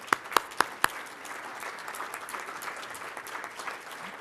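Applause from an audience at a youth program summit, opening with a few sharp separate claps and then a scattered, continuous patter of clapping from a seated crowd.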